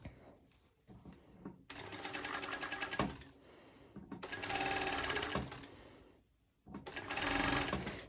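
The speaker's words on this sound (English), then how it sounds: "So yes, I'm using my cover stitch machine." Cover stitch sewing machine stitching fabric for pole dance wear, running in three loud bursts of rapid needle chatter separated by brief quieter pauses, with no talking over it.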